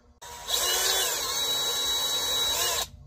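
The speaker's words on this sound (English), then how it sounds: "if I could drill that out" Power drill boring out a metal spirits primer can for a lantern modification, one steady whining burst of about two and a half seconds that starts and stops abruptly, close and loud.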